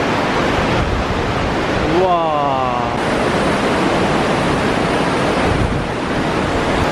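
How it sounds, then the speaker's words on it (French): A river flows through a mountain gorge in Taiwan, a loud, steady rushing roar that fills the whole stretch, with one brief exclamation of awe from a nearby voice. "On a une rivière qui coule."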